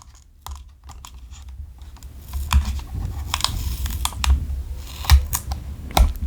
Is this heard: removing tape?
yes